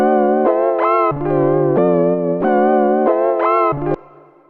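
Sequential Prophet-6 synthesizer playing a chord progression with a borrowed out-of-key third chord, sustained bright chords shifting roughly every half second, loud and alone with effects and a short decaying tail.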